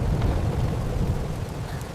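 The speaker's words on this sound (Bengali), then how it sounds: "হায় আল্লাহ, যে ঝড় বৃষ্টি শুরু হয়েছে" A thunderstorm rumbles low and continuous with heavy rain, a dense, steady roar throughout with no voices.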